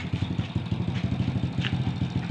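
Motorcycle engine running in a small repair workshop, a close, rough, rapidly pulsing idle with clattery mechanical chatter that holds steady throughout.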